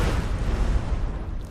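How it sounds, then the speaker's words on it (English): A loud, booming explosion in Skyrim, a dense low rumble sustained for over a second before tapering off. "That doesn't stop the explosion from going off."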